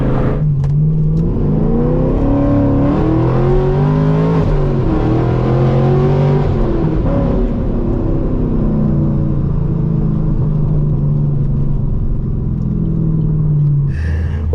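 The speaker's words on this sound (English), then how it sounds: "That is the final POV drive with my fully straight piped exhaust setup." A fifth-generation Camaro with a fully straight-piped exhaust drives past, a loud, deep rumbling exhaust that swells and dips as the engine revs, close and continuous with no talking.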